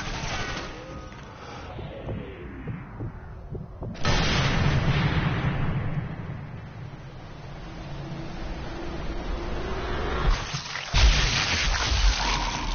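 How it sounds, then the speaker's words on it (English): A sniper rifle shot in the video game Sniper Elite III booms in a heavy, reverberant blast, with rumbling battlefield ambience before and after and a second thump near the end. "Another long shot."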